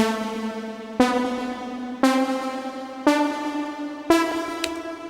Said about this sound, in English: Now there's a little like bass line that's coming on.